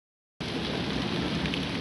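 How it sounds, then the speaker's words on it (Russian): Rain falls steadily around a shelter during an October fishing trip in Rostov-on-Don, a close hiss and patter that starts abruptly after a moment of silence and then continues evenly with no voices. "И пока идет дождик, я тут в укрытии спряталась"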